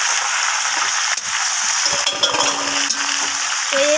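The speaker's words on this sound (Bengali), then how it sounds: "তো এরপর আমি এখানে সমস্ত কিছু ভাজা সবজিগুলো এখানে দিয়ে দিলাম" Fried vegetables tipped into hot oil with a dried-chilli tempering hiss and sizzle loudly and continuously, with a few faint clinks of a utensil against the pan.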